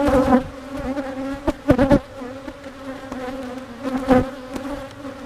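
Honey bees drone steadily around an open, weak hive during an inspection, with several louder buzzing passes as individual bees fly close by.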